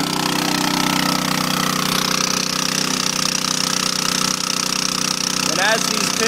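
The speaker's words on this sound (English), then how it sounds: "As you can see, we have the hydraulic generator powering" A hydraulic generator powering a trenchless pipe-bursting machine during a water and sewer line replacement in New Jersey, a loud continuous mechanical roar with a steady hammering drone that stays constant throughout.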